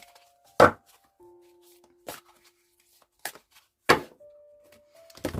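Oversized tarot cards are shuffled by hand, giving a handful of soft, close slaps and thumps at irregular intervals with quiet gaps between them. No one talks.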